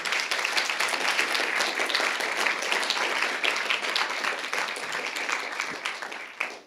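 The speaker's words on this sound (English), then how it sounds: "Please give them a round of applause." A conference audience at a tech summit claps for the panel speakers, a dense, even wash of applause over several seconds that thins out at the end.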